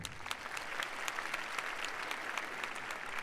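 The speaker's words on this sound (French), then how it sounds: "Applaudissez ceux qui ont fait du caté." Steady applause from an audience at a French stand-up comedy night, dense clapping sustained throughout at an even level with no voices on top.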